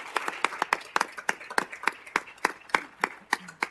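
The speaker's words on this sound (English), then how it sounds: "let's give a round of applause." Attendees at a regular city council meeting give a round of applause, a modest group of clear, distinct claps in a fairly quick, uneven rhythm, close and crisp, with no talking over it.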